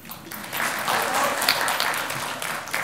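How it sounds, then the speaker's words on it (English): A conference keynote audience at a college student event claps together for about three seconds, a dense, even wash of applause that swells slightly and then holds steady. "Give yourself a massive round of applause."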